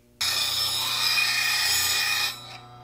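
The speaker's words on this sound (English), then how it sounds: "Start your grinder up." Bench grinder sharpening the bevel of a woodturning tool: a steady, loud, hissing metal-on-wheel grind begins abruptly and holds evenly for about two seconds before fading as the tool is lifted.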